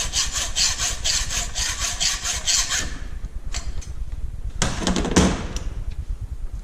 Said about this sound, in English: I'm going to finish this with the hacksaw